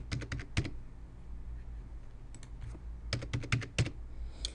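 A new password is typed on a computer keyboard during DVR setup, with short bursts of crisp, close keystrokes separated by a quiet pause over a low steady hum.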